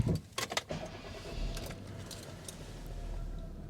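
Keys jangle near the start, then the engine of a 2009 Kia New Morning SLX turns over and settles into a low, steady idle heard from inside the cabin.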